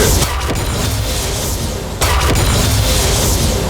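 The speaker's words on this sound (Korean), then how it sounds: "제리의 번개 방출" Zeri's lightning discharge ability in League of Legends: sustained, loud booming bursts and crackling blasts with a brief dip midway before the barrage resumes.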